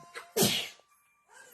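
A single sharp sneeze bursts out, loud and close, preceded by a short breathy intake and followed by quiet.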